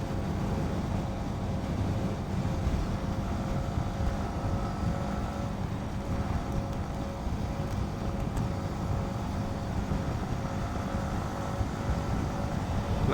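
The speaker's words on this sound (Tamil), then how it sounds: "நல்லா செம்ம காற்றுங்க, நல்லா காற்றடிக்குது" Steady, loud wind roar buffeting the microphone while riding a Yamaha MT-15 motorcycle in Chennai, a constant rushing rumble at speed in open air, with no voices.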